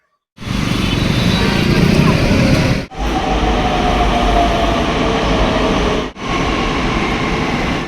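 A Pune metro train rumbles loudly and steadily with a broad roar, broken by two brief dips partway through.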